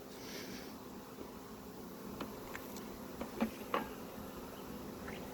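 Honey bees buzz around an open hive outdoors, a soft continuous drone with a few individual bees passing close by, faint overall.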